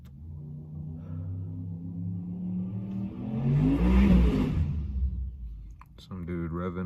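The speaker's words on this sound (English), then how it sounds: "some dude's revving his little motor and whatnot" A small car engine revving somewhere nearby, rising into a rumbling peak and then dropping away, with someone talking over it.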